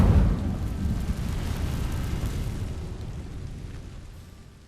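A spell in Hogwarts Legacy sets dry vines ablaze: a loud burst and rumbling whoosh at the start, then a sustained crackling roar of fire that slowly fades, with no talk over it.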